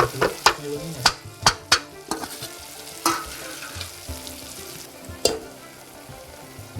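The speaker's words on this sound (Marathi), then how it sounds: "आता आपण याच्यामध्ये डाळव्याचं पीठ टाकून देऊया भाजी कसवण्यासाठी." Gram flour stirred into chicken masala frying in a pan, with a close, steady sizzle under sharp, irregular spoon scrapes and clinks that come quickly at first and then grow sparse.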